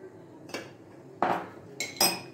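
A teaspoon of sugar goes into glass jars, heard as several bright, close clinks of metal spoon on glass separated by short quiet gaps, with no talking.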